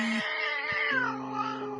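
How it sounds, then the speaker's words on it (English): A cat gives a drawn-out distressed yowl, close and loud, with a wavering pitch that slides downward over under two seconds. "posted TikToks of cats sounding in distress calls"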